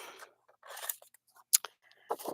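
Scissors snip card stock in a few quick, crisp cuts, close and quiet with silent gaps between strokes.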